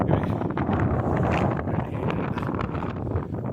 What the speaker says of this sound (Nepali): यस्तो हावा सुनिरहनु भयो होला तपाईँले